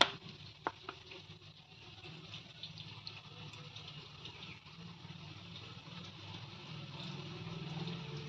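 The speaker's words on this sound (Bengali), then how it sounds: "চিকেনগুলোকে আরেকবার ভালো করে ভেজে নিচ্ছি" Chicken pieces, about 800 grams, frying again in a pan for restaurant-style chili chicken with green and red chili and tomato sauce, giving a steady low sizzle and bubbling with a few clinks near the start, no talk.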